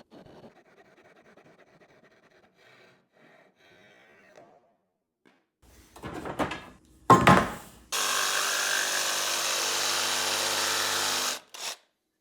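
A power saw with a dull, worn-out blade cuts through wood during the repair of an old rocking chair. It starts with a short, loud burst, then runs as a steady, strained whine for about three seconds before it stops.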